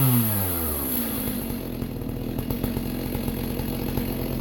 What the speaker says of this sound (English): No, I like chainsaws.